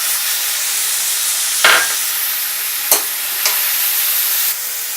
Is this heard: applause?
no